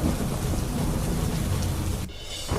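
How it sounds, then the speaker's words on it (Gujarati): Torrential rain pours over the Kurangani forest in Theni, Tamil Nadu, a dense steady roar of heavy downpour with a deep rumbling low end, close and loud throughout and briefly thinning near the end. "કુરંગાનીના જંગલ વિસ્તારમાં ધોધમાર વરસાદ"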